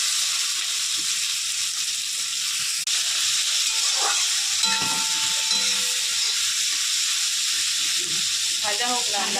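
Onion and marinated mutton frying in hot oil, a continuous bright hissing sizzle that stays steady throughout, with a few faint clinks and a brief voice in the background.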